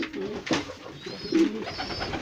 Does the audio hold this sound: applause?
no